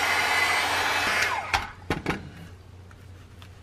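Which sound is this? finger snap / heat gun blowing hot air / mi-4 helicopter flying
heat gun blowing hot air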